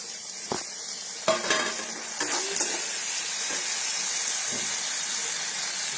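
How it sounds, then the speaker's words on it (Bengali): Cashews and raisins fry in ghee with a little salt for sweet pulao, giving a steady close sizzle throughout with a few sharp spoon clinks and stirring scrapes in the first few seconds. "এই যে কাজু কিশমিশটা ভাজা হয়ে গেছে"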